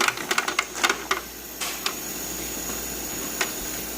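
Ice cubes drop inside a Dometic HZB-12SA portable ice maker, a quick cluster of sharp clattering clicks followed by a few scattered taps over a steady motor hum, close by.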